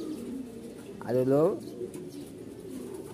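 One clear pigeon coo rises briefly over a person talking nearby in a pigeon-keeping setting where the birds are fed grain.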